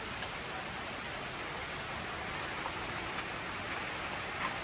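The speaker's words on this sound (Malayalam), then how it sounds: "മഴ പെയ്യാൻ തുടങ്ങിയിട്ടുണ്ട്" Rain falling outdoors as a steady, soft, even hiss of drops, faint and continuous with no voices.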